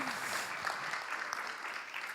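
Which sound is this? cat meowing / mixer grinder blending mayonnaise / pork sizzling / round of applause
round of applause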